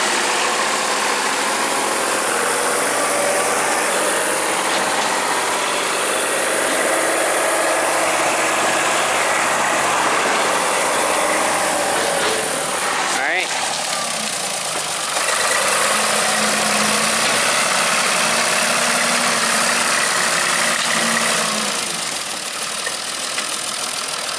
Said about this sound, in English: Watch the tractor.